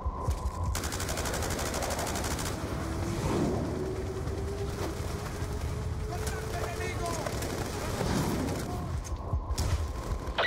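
Dense, continuous automatic gunfire and explosions from the Call of Duty Black Ops 2 campaign roar without a break, with a voice talking over the battle.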